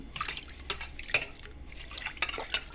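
Raw fenugreek seeds are washed in a bowl for khatta dhokla, with scattered clinks and scrapes of utensils against the bowl and light water sounds, close and fairly quiet.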